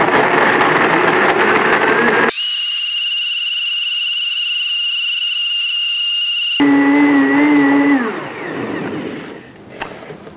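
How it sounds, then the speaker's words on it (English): A high-powered countertop blender, BlendTec or Vitamix, blending nuts and seeds into raw vegan eggnog, with a loud steady motor whine that starts abruptly and holds for several seconds before stopping and spinning down. "We're gonna blend this up for quite a while."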